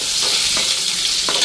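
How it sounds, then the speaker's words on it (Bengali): Potatoes hit hot oil in an iron wok just after fish has been fried there, giving a loud, continuous close sizzle with a few soft stirring scrapes and no voices. "এদিকে মাছগুলি ভাজা হয়ে গেছে, আর এখানে আলু দিলাম"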